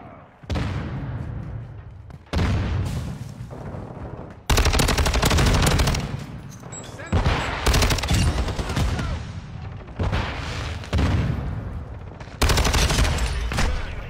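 Heavy sniper gunfire in loud, sustained bursts broken by brief pauses, close and dense, with repeated volleys over about fourteen seconds.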